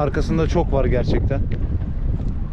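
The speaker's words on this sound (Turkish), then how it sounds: "Rüzgar sesinden dolayı da herkesten özür diliyoruz." Strong wind buffets the microphone on a fishing boat out squid and deep-water fishing, a low rumbling roar that runs under loud, close voices talking throughout.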